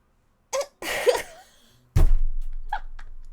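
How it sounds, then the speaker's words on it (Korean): A person stifles a sneeze, producing a short choked burst followed by a strained vocal squeak, then a loud thud and some faint breathy noises close to the microphone. "재채기 나오려는 거 참으려고 했다가"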